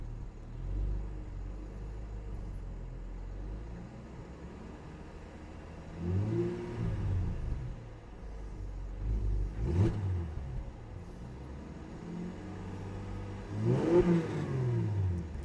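A 1000+ horsepower BMW X3 M F97 engine revving in three separate surges, each rising to a loud roar before dropping back to a low, rumbling idle, close by.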